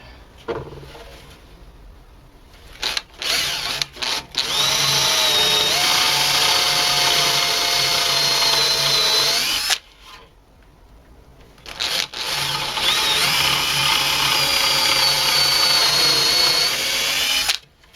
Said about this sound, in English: Just drill through into a bit of scrap wood to stop it splitting on the far side